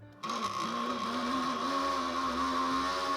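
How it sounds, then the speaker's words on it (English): A blender blitzes sesame seeds for tahini, its motor whirring loudly and steadily at high speed with a constant whine after starting abruptly. "My blender struggled a bit because it blitz up sesame all clumped up on the edges, and then the blade was just spinning on its own with nothing engaged"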